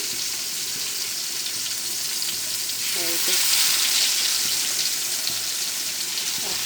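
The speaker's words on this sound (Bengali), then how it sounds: "আপনাদের আমি ফিস ফ্রাই করে দেখাচ্ছি" Pangas fish pieces frying in a pan of hot oil, a steady loud crackling sizzle throughout that swells louder midway, with a faint voice briefly heard under it.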